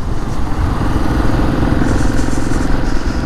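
A Royal Enfield Himalayan motorcycle engine runs steadily while riding on roads in Ladakh, a loud continuous low rumble with constant wind noise and no speech.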